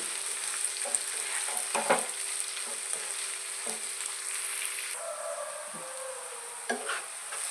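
Onions fry in hot oil with a steady sizzle close by, broken by a few scraping stirs of a spatula against the pan; no one speaks.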